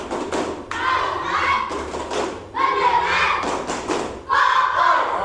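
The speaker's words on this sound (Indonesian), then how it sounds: "Tepuk fokus." A classroom of students performs a rhythmic focus clap, with bursts of hand claps and thumps mixed with loud group shouting, repeated in three energetic waves separated by short pauses.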